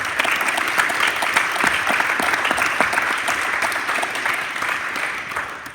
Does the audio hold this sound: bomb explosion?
no